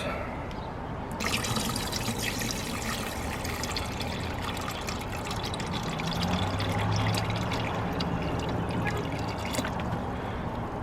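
Water pours steadily into a small hydroponic bucket set up for growing tomatoes by the Kratky method, a continuous close splashing trickle that grows slightly fuller as the level rises, with no talk over it.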